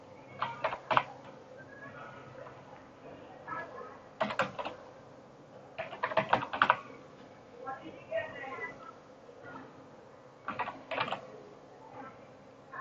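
Typing on a computer keyboard while filling in a payroll form, with short clustered bursts of key clicks separated by pauses, quiet and close, under a softly spoken voice.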